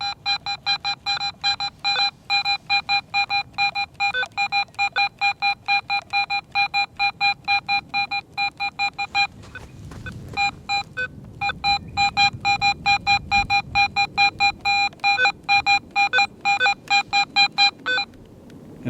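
A Garrett metal detector in pro mode, its 8.5 x 11 inch DD coil wiggled tightly over a target, sends out a loud string of rapid, stuttering electronic beeps. The beeping pauses briefly midway, then resumes over a faint low rumble.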